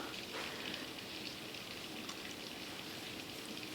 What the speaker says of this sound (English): it's very, very rainy here. We've had thunderstorms all night